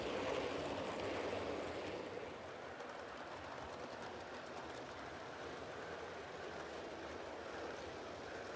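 A model railway goods train, a Fowler 0-6-0 tender engine leaving a yard with a pickup goods, rumbles steadily with a broad, continuous roar and faint rail noise, holding at a constant level throughout with no voices.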